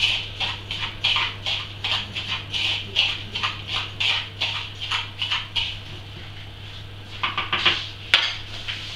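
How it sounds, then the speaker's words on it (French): Crushed biscuit powder for mini cheesecakes is stirred in a bowl, making close, rhythmic scraping strokes of a utensil against the bowl that repeat steadily over a low background hum, with no talking. "Et on mélange."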